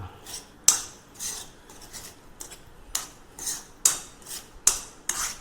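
A spoon scrapes rhythmically through an onion and potato filling for aloo paratha in a pan, giving repeated rasping strokes with a few sharp metallic clinks, close and alone.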